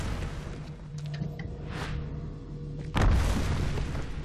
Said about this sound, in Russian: Ломится к нам в дверь как раз.